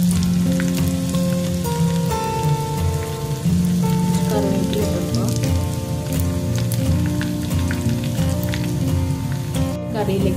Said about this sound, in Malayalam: ഇതിലേക്ക് എനിക്ക് ചുവന്നുള്ളി അരിഞ്ഞത്, രണ്ട് ചുവന്നുള്ളി അരിഞ്ഞത് ഇട്ട് കൊടുക്കാം. അതുപോലെ രണ്ട് വറ്റൻമുളക് ഇട്ട് കൊടുക്കാം.